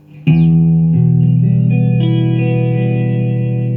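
A sustained electric guitar chord heavily processed with effects, shimmering with chorus and distortion, ringing out loud with a wash of reverb and echo.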